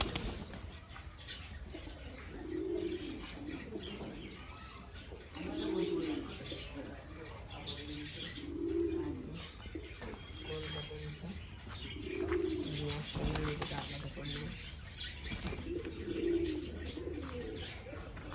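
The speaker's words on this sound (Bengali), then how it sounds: "পায়রাগুলোকে আমরা বার করে নিয়েছি, সব এখন বাইরে আছে" Pet pigeons let out of their coop coo in steady repeated bursts every few seconds, with some wing flutter and chirps around them and a faint voice in the background.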